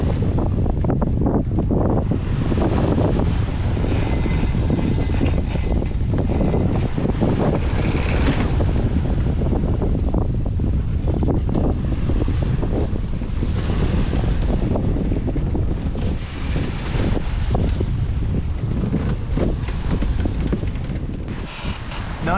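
Strong squall wind sweeping over a sailboat on the open Pacific, a loud, constant roar of gusts buffeting the microphone over rushing waves and hull noise, unbroken for the whole stretch.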